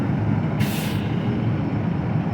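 A Blue Line shuttle bus, a 40-seater running on compressed natural gas, reverses close to the sidewalk. Its engine rumbles steadily, broken by one sharp hiss of an air-brake release, loud and nearby.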